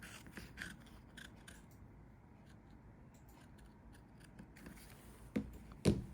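Scissors cutting a paper bikini top pattern, quiet close snips spread across a soft background, ending in two louder crisp cuts near the end, no talking.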